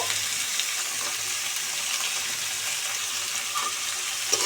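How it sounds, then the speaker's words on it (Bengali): Onions, green chillies and potatoes fry in a pan with garlic, a steady close sizzle and crackle that runs throughout with no talking. "একসাথে এগুলো ফ্রাই করে নেব"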